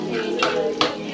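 A spoon stirs and mixes upma in a pan, giving two brief scraping strokes over a low background, close by, with no one talking.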